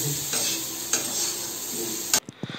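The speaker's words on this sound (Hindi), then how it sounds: "यहाँ पे सब्जी के लिए आलू फ्राई हो रही है।" Potatoes frying for a curry in a home kitchen give a steady, loud sizzle with stirring scrapes throughout, stopping abruptly near the end, followed by a few soft clinks.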